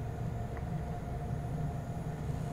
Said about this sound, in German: Sehr schön, S-Bahn fährt ein.